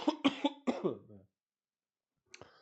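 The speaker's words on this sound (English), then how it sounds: "You ever stretch so hard it makes you cough?" A quick burst of several close, hoarse coughs, then silence, followed by one more short cough.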